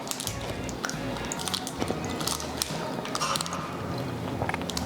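Someone chews a crunchy chocolate pretzel protein bar up close, with a steady run of crisp bites and crackling crunches at an irregular rhythm, fairly quiet and with no talking.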